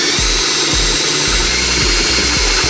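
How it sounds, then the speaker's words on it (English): Power drill enlarging pilot holes to 3/8 inch in the aluminum bed of a 2018 Ford F-250, a steady whirring drone with repeated low pulses as the bit bites, loud and close with no talking. "we'll be enlarging our pilot holes to 3/8 to put those in"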